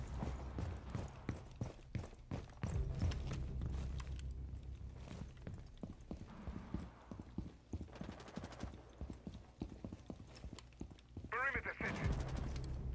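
Rainbow Six Siege gunplay with a machine pistol: quick, rattling bursts of fire repeat throughout at moderate loudness, mixed with footsteps and game effects, and a voice talks in the middle.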